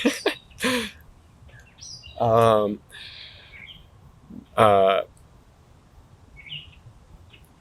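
Bird gives a couple of sharp, harmonic calls after being startled outdoors, two distinct bursts with a pause between, heard alongside a man's hesitant speech.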